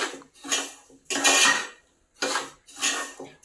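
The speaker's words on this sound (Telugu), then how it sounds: "గోధుమ నూకను అయితే ఇందులో వేస్తున్నాను. వేయించుకోవాలి." Wheat semolina stirred and roasted in hot ghee in a pan, giving repeated scraping and clinking bursts of a utensil against the cookware in an uneven rhythm, close and fairly loud with short pauses.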